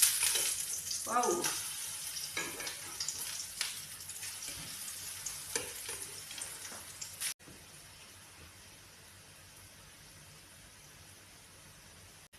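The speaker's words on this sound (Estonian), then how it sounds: "Panin juba esimesed koogikesed pannile." Green onion pancakes fry in a pan with a steady, hissing sizzle and scattered crackles. The sizzle then drops to a softer, even hiss, and a voice briefly exclaims.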